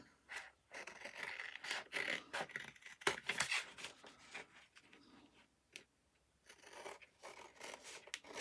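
Scissors trimming the edges of a paper journal card for a wedding journal, a series of close, crisp snips and rustling paper handling that come in bursts with short pauses.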